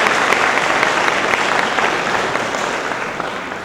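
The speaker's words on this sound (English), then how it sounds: "Give Spartanburg Community College a great big round of applause." A college event audience gives a full round of applause, dense and loud at first and tapering gradually, a steady wash of many hands clapping with no voices over it.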